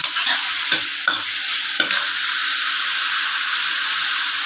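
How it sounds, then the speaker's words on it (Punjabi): Ladle stirring finely chopped tomatoes frying in a pan, with a steady close sizzle and a few distinct scraping strokes early on, no talking. "ਕੜਛੀ ਨਾਲ ਆਪਾਂ ਇਹਦਾ ਨੂੰ ਥੋੜਾ ਹਿਲਾਵਾਂਗੇ"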